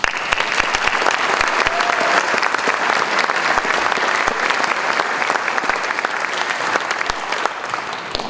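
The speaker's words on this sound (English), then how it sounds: "I was concerned that I would not be welcomed with the same round of applause" Audience at a high school Hall of Fame ceremony clapping to welcome a speaker, sustained dense applause with many individual claps, loud and even throughout, tapering slightly at the end.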